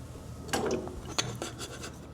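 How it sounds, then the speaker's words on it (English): A big chisel pries out an end cap, producing a few short, close scraping and grinding clicks at low volume. "I just use a big chisel"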